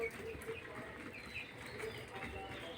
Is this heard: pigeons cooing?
yes